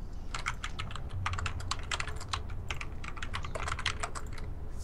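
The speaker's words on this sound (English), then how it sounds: "So much typing." Rapid typing on a computer keyboard, a dense run of close, crisp key clicks in irregular bursts over a low background hum.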